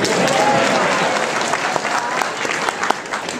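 A town hall audience in Rapid City applauds, loud and crowded at first, then thinning and tapering off over a few seconds as a voice begins to come through.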